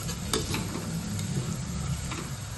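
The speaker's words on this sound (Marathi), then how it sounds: "तर साधारण हा कांदा छान परतून घ्यायचा आहे गुलाबी होईपर्यंत" Chopped onion sautéing in a pan over medium-low flame, a continuous dense sizzle with a few scraping stirs, close and fairly loud, no voices.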